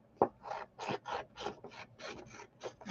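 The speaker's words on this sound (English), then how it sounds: "We want our little bitty scissors so we can cut him out." Small craft scissors snipping out a paper cutout, a quick run of about ten short, close rasping cuts in an uneven rhythm, quiet, with no talking.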